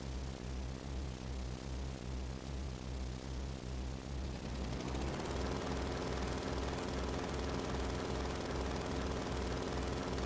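A video game helicopter engine drones steadily and loudly, a low rhythmic rotor thump under a broad whining hiss, with no voices.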